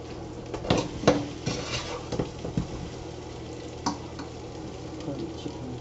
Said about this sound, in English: Curry chicken, you see it's frying up there.